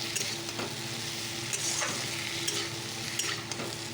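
Spices and turmeric powder frying in a pan, an even close sizzle with repeated spoon scrapes and stirring strokes at a steady rhythm throughout, no voices.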